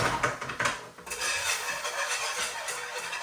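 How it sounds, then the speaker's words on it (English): A whisk scrapes and rattles against a pan as flour is worked into melted butter for a roux, with quick irregular strokes close by, then a steadier stirring rasp. "Whisk."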